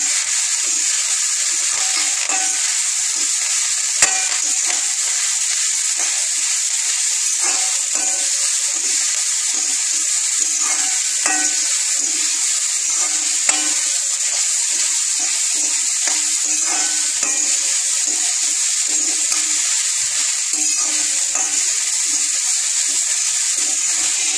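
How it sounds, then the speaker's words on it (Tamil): Grated coconut and curry leaves are stirred and sautéed in a pan, giving a steady, close sizzle with scattered scraping stir clicks throughout, no talking. "இப்போ அதை நல்லா கிளறி பெரட்டி இறக்கிட வேண்டியது"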